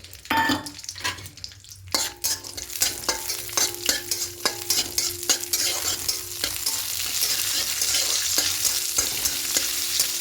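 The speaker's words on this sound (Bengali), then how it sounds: "এবার ঘিয়ের মধ্যে প্রত্যেক কাজু আর কিশমিশটা একটু হালকা করে ভেজে নেব" Cashews and raisins frying in ghee, a bright, dense sizzle that grows stronger after a brief pause, with frequent quick stirring clicks against the pan, close and fairly loud, no speech.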